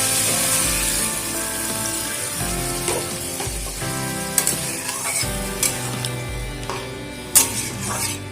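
Water poured into a pan of bottle gourd cooking with cumin and green chilli, a loud rushing splash over steady sizzling, followed by stirring clatter and a few sharp knocks of a utensil against the pan.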